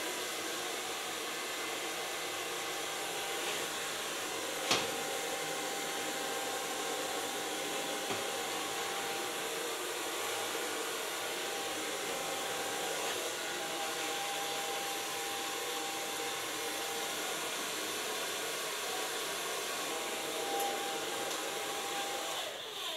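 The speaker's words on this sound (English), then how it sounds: "So far blow drying." A hair dryer blowing hair dry, a continuous steady whooshing airflow with a constant motor whine that runs unbroken throughout, with only a few faint knocks and handling sounds over it.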